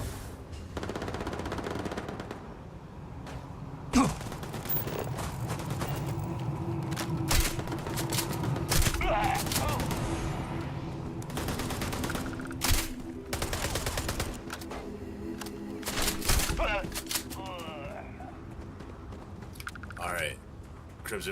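Gunfire during a ship battle in the video game Starfield, with rapid bursts and scattered shots throughout, under someone talking.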